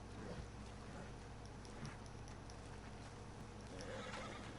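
A horse in the video game Red Dead Redemption 2 whinnies briefly over a steady, busy background hum, with faint clip-clop of hooves and no talking.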